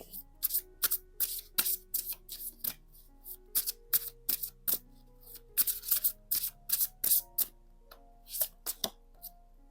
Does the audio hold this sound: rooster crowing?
no